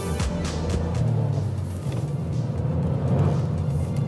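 A cheap estate car drives along, its engine giving a steady low rumble and drone from inside the cabin with slight shifts in pitch as it pulls, loud and continuous, no speech.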